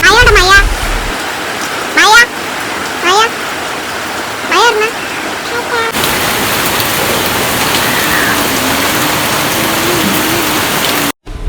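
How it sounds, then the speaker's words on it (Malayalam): Steady heavy rain hisses continuously; over the first half birds chirp in short bursts, then the downpour continues alone, dense and even. "പുറത്ത് നല്ല മഴയുണ്ട് നല്ല മഴയുണ്ട്"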